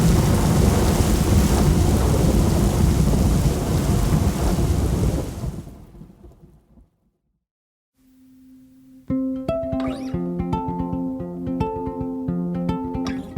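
Heavy tropical downpour with rumbling thunder, loud and dense roar for several seconds, then fading into near silence before tonal music takes over.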